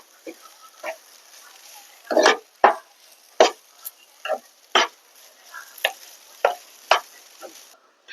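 Crushed prawns for a Kerala prawn thoran are stirred in a pan. Close, rhythmic scraping strokes repeat about a dozen times, with a faint sizzle underneath.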